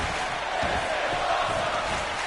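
A packed wrestling arena crowd roars steadily through a main event at an MVWF show, a dense, sustained wash of cheering and shouting that fills the whole moment without letting up.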